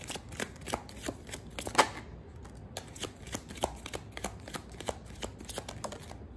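Tarot cards are shuffled in quick, crisp riffling bursts, close and fairly quiet, with a brief louder snap partway through and no voice over them.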